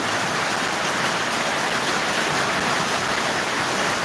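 Heavy rain and a rushing stream of water at the Balumama temple make a loud, continuous broadband roar, steady and unbroken from start to finish, with no voices.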